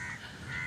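A single crow cawing somewhere along backwater roads, a brief harsh call heard faintly in outdoor ambience.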